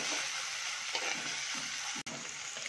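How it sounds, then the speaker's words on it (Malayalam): Onions and dried anchovies sautéing in a pan for a dried anchovy stir-fry, a steady loud sizzle with soft stirring scrapes throughout and a brief dropout near the end. "ഇനി നമുക്ക് ഈ ഉള്ളിയും ഈ ഉണക്കമീനും എല്ലാം കൂടെ നന്നായിട്ട് ഒന്ന് വഴറ്റി കൊടുക്കണം"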